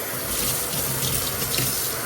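Cold tap water runs steadily, washing water-soluble stabilizer away from stitched material; a continuous close hiss and splash with no voices.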